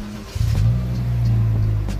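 A 2016 Honda Jazz engine turning over on a cold start during a car inspection, settling into a steady, close, moderately loud idle with a low droning hum after the initial catch.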